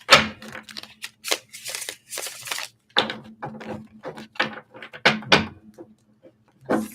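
Tarot cards shuffled by hand in repeated quick riffling bursts, close and fairly loud, with short pauses between the bursts and no talk.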